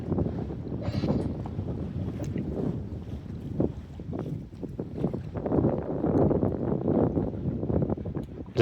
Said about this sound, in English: The boat is gaining speed now on the 3 sails.